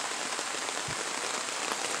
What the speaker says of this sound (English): the rain is coming down so fast that it's going to start overflowing again in a minute